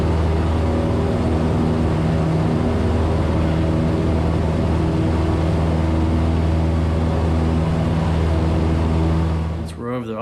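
A small training airplane's engine drones steadily and loudly at full power as it lifts off and climbs, a continuous close hum from inside the cabin that ends with a brief rustle.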